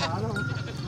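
At a busy goat market, a male goat gives a short wavering bleat over steady crowd and livestock background noise.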